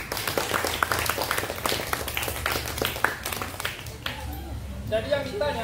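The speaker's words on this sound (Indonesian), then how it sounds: "silakan tepuk tangan dulu buat kawan kita." Schoolchildren applaud a classmate after a floor gymnastics demonstration at an elementary school, a dense patter of many small hands clapping together, fading out as an adult voice begins speaking near the end.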